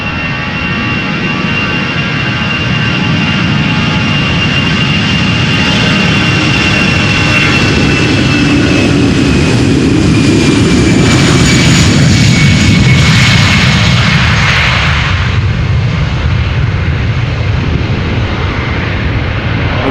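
An Airbus A320 airliner, 16 years old, at Amsterdam Schiphol Airport, its jet engines roaring loud and steady for the whole stretch, with a rising whine and a swell of thrust near the middle before the roar eases slightly.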